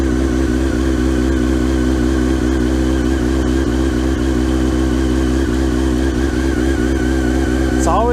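A motorcycle engine idling steadily after a season of sitting, with a loud, even, close rumble throughout and a faint voice briefly heard near the end.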